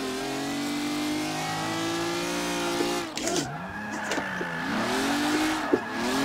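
A car in Forza 5 drifts under the e-brake, its engine droning steadily at high revs, then tires squeal in sweeping, wavering pitch bends over the continuing engine roar.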